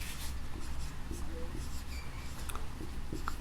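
Writing on a board during a Hindi grammar lesson: a faint, steady scratching under a continuous hum, with a few brief marker strokes.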